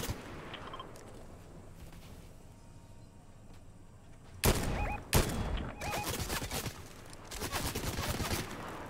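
Gunfire in the video game Fortnite: after a quiet stretch, two sharp loud shots ring out, followed by a rapid burst of repeated fire that continues in clustered volleys through the rest of the clip.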